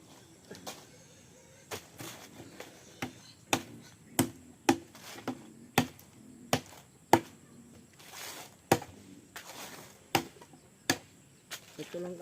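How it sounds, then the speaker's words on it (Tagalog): Firewood being split with a blade on a farm in Palompon, a series of sharp, regular chopping impacts roughly every half second to second, fairly close, with faint background noise and no talk. "So yan guys, magsisibak muna tayo ng kahoy."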